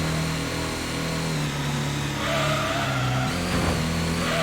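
A race car in the PlayStation game Gran Turismo, on the Grand Valley East track, revs hard as it accelerates, its loud engine whine climbing and shifting pitch steadily with no talk over it.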